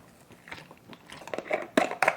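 Armenian cucumber salad with onion being tossed and mixed, giving wet crunching and crinkling bursts that grow louder and denser toward the end, with no talking.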